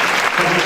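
A church congregation at a Pentecostal Sunday service in Udaipur, Rajasthan, claps together in a steady wash of applause filling the whole short moment.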